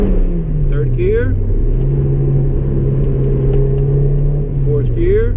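A Honda S2000 engine drones loudly from inside the cabin on a test drive, its pitch sliding down then holding and rising as it accelerates through the gears into VTEC, with brief chirps over the rumble.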